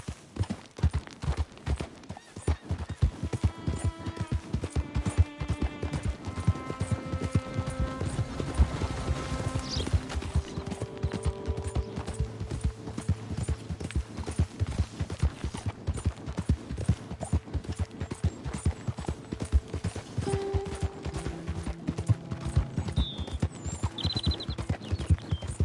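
A horse's hooves clip-clop in a fast, even rhythm for a long stretch, with tonal music playing alongside and a brief whinny-like call.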